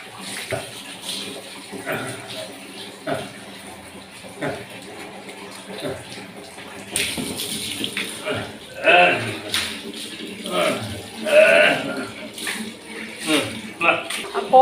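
A pet being bathed and shaking off water: splashing and sloshing water with brief bursts of spray, under a person speaking affectionately throughout.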